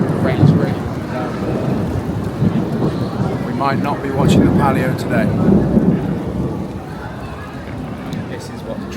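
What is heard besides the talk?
thunderstorm with heavy rain in Siena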